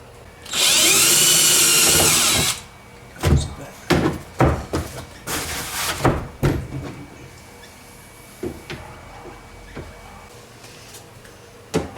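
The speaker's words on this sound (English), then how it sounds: "I'm just going to put a couple of little bolts on the side here just to stop it going that way and that way." A power drill driving a couple of small bolts into the side of a laptop mount on a kayak, one loud continuous whir up close, followed by scattered knocks and clunks from fitting the parts.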